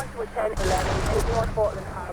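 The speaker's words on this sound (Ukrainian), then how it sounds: "Ну, ось так, постріляємось." Gunfire in the video game GTA 3 rattles off in a dense burst of shots, loud and close, with someone speaking over part of it.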